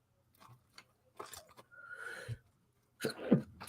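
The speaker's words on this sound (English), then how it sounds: "Excuse me, I'm getting the sneezes." A man gives one loud, breathy sneeze in the middle of the clip. Softer coughs or throat noises come before it and another burst follows. It is close and quiet overall, with no speech.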